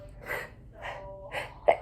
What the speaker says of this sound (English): I'm gonna sneeze because I just freaking wiggled on my nose.